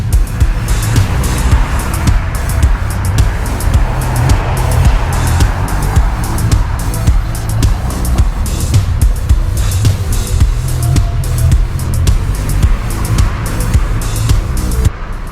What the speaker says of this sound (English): This traffic just does not stop ever.